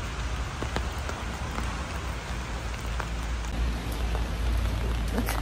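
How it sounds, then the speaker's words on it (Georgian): Steady rain falls on a surface close by on a morning, a dense, even patter of drops with occasional louder individual splashes and no talk. "აი როგორ მიყვარს წვიმა"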